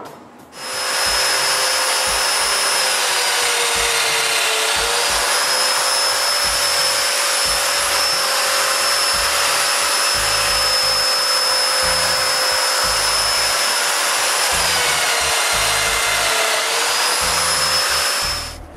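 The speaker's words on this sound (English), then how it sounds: "I mark the placement of the dominoes mortises and make them" A domino joiner cutting mortises in wood planks in a small workshop: a loud, steady motor whine that runs almost unbroken and dips slightly in pitch midway as it bites into the wood.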